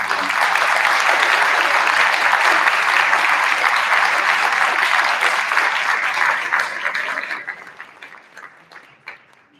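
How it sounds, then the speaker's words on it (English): A crowd at a senior awards ceremony applauds loudly and steadily for several seconds, then the clapping thins out and fades to a few scattered claps. "please join me in giving everybody a round of applause"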